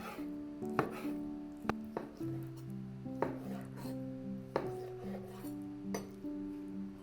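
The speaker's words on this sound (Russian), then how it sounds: "И теперь полоски нарезаю на маленькие кусочки," Kitchen knife chopping chicken breast strips into small cubes on a cutting board, a few faint, irregular knocks heard under quiet background music.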